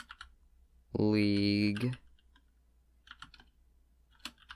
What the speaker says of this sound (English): then I type in Rocket